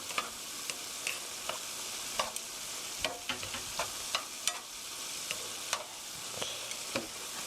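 Bulgogi with oyster mushrooms stir-fries in a pan, a steady bright sizzle with soft repeated scrapes and taps of a utensil mixing the ingredients.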